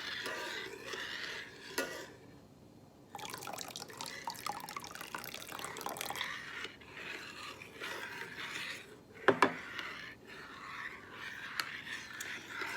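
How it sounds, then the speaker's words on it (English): Vinegar poured into warm milk and stirred, with soft liquid trickling, the scrape and clink of a utensil against the container, and a couple of sharper taps near the end, all fairly quiet. "we are now going to add the 4 tablespoons of vinegar"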